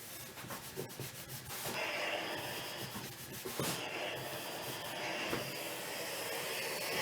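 A clothes iron works across a shirt, with soft rubbing and sliding strokes of fabric under the plate and a broad hiss rising midway, close and steady with no talk.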